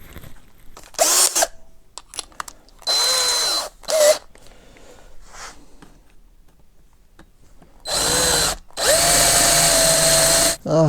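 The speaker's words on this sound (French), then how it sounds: "je me retrouve à faire des trous" A power drill bores holes in short, loud bursts, with whining spin-ups separated by pauses and quieter handling noises, during work on an Avioracing Concept Cage setup.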